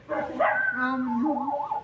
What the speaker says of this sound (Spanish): lo que escucho de fondo es un coyote, un pinche lobo, yo que sé, un perro en, celo